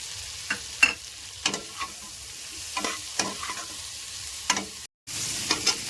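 Vegetables stirred into pui mituli in a pan, with sugar and chili powder nearby: soft, intermittent scrapes and clinks of a spoon over a faint low sizzle, close, quiet, with a brief dropout near the end and no talking.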